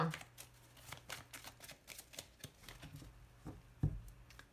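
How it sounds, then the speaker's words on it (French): A deck of tarot cards is cut and handled on a table, giving a run of soft, close riffling flicks and taps with a sharper knock near the end, while a person talks quietly underneath. "On va déjà faire une coupe."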